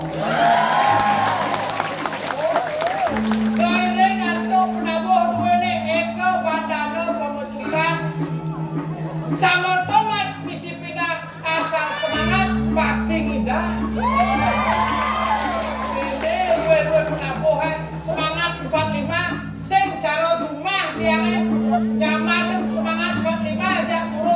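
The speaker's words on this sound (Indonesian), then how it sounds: "beri tepuk tangan buat penabuh" An audience applauds and cheers for the gamelan players at a traditional Balinese drama gong performance at the Bali Arts Festival, clapping and whoops layered over sustained gamelan tones and voices throughout.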